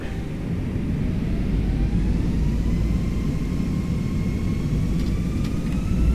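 Airbus jet engines spool up to takeoff thrust in a flight simulator, a steady loud roar with rising whine tones building over several seconds, no talk.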